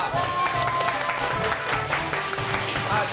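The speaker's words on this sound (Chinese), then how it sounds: "掌声鼓励一下，掌声鼓励一下啊！" Applause from a variety-show studio audience, a sustained wash of clapping with people talking and calling out over it.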